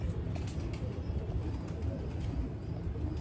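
A large pigeon coos in low, steady repeated calls with a faint chirp or two, close by and continuous, with no voices.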